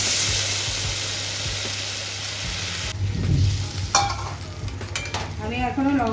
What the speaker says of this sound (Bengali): এবার আমি জল দিয়ে দিই।